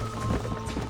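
A horse gallops in the video game Red Dead Redemption, a brief run of rapid hoofbeats under steady tonal game sound.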